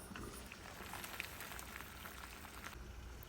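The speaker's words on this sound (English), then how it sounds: "Then I get about a gallon of water on the stove, getting ready to boil." Steady bubbling and crackling of about a gallon of water at a rolling boil in a pot on the stove, a continuous busy hiss with small pops, fairly faint and with no voices.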